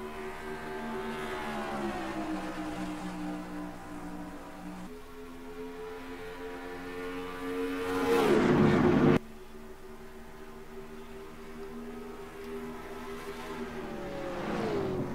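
Race trucks at Darlington in the NR2003 Powerade Truck Series, Logitech 200: a steady engine drone with shifting harmonic pitch, rising to a louder passing roar around eight seconds before settling back into the pack hum.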